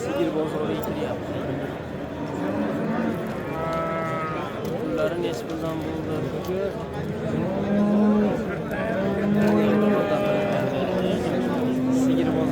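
Cows and other cattle at a busy, crowded livestock market moo several times, long low calls that rise over steady voices and chatter in the background.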